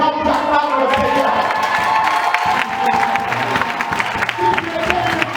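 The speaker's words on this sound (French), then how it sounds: "tu commences à acclamer le Seigneur" A church congregation cheers and acclaims the Lord with a loud, dense roar of voices, shouts and scattered clapping that runs continuously.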